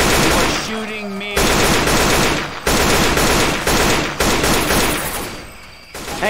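Rapid automatic gunfire bursts loud and close in a Left 4 Dead 2 swamp level, with short pauses between volleys and a brief quieter gap.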